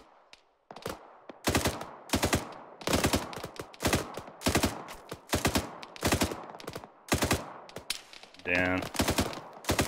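Light machine gun fire in ArmA 3 during a night operation, loud repeated bursts of rapid close shots in a steady rhythm, with a brief spoken word between bursts.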